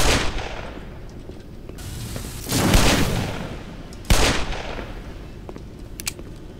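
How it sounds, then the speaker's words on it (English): Gunfire in the video game Black Mesa, a series of loud booming shots with a sustained burst in the middle and a sharp blast near the end, decaying into low rumble, no voices. "Stop shooting at me."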